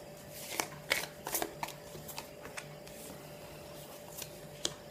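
Cards from an oracle deck being shuffled and drawn, with crisp papery riffles and flicks in quick clusters, close and fairly quiet over a faint steady hum.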